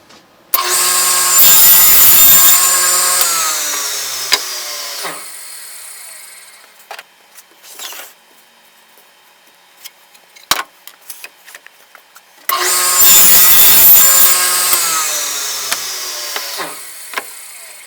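A power saw cuts wooden boards to length in a workshop: two loud, sustained cutting passes of about four seconds each, separated by a quieter stretch of light knocks and handling noises.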